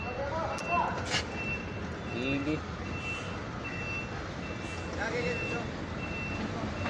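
Vehicle driving onto a ship at a Batangas port, with steady reversing beeps repeating over a noisy engine and harbor background, while someone speaks briefly nearby.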